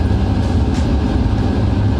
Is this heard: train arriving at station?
yes